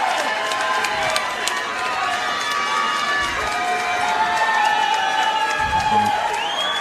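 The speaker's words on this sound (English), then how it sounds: "how about a round of applause for both of these warriors going 3 hard-fought rounds" A crowd at a three-round fight in Portland, Maine keeps up a steady roar of applause and cheering for both fighters, with a voice carrying over the noise throughout.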